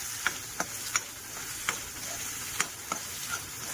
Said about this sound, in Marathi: आता छानपैकी वरती तेल येईपर्यंत चांगलं खरपूस भाजून घेऊया.